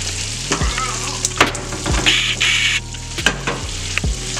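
Food fries in a pan at home with a loud steady sizzle, broken by repeated stirring knocks and scrapes against the pan at irregular intervals.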